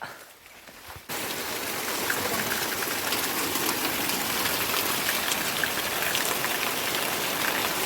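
Heavy monsoon rain pours down steadily in Kodagu, a dense, loud and continuous hiss that starts abruptly after a brief quiet second and then holds without a break.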